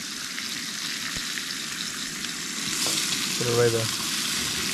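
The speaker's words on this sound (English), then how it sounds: "Jacob is making bacon and sausage." Bacon and sausage fry on a camp stove at a campsite, giving a steady close sizzle and crackle throughout, with a brief clatter near the end and a voice speaking once over it.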